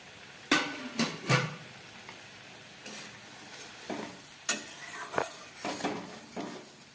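A metal spoon clatters and scrapes against a pan as fried eggplant is stirred into a fish curry with tomato, sharp knocks over a faint sizzling background, no voices.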